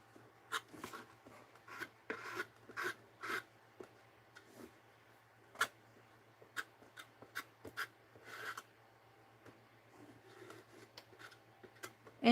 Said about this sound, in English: there'll be some scraping here